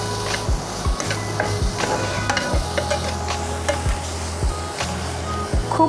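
A salted mixture for cheese toast stirred in a bowl or pan, close and fairly loud, with a regular run of short scraping and tapping strokes over a low steady hum and no talk.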